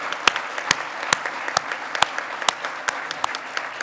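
Sparse clapping at an awards ceremony, a few sharp, distinct hand claps spaced about half a second apart over a low murmur, sounding thin and scattered rather than a full ovation.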